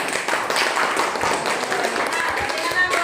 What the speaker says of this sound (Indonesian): Iya, kita beri tepuk tangannya.